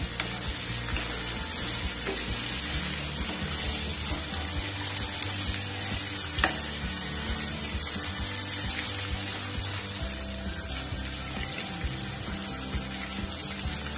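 Fresh green peas fry in a pan for a brinjal and pea curry, giving a steady, even sizzle with a faint crackle that holds at an unchanging level throughout with no talk over it.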